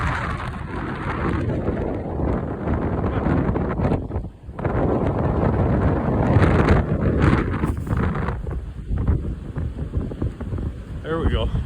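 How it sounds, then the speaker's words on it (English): Strong, cold wind buffets the microphone on top of a sand dune at Muskegon State Park in winter, a loud continuous roar with gusts that dip briefly and surge again. "It's very windy. The wind is pretty cold."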